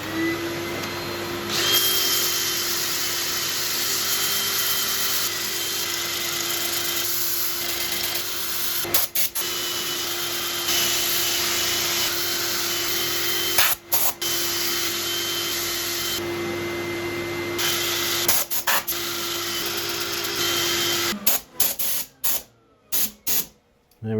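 Power sanding the inside of a natural-edge crotch elm bowl on the lathe: a steady, loud whirring drone with a constant hum, running unbroken for over twenty seconds before sputtering and cutting out in brief stops at the end.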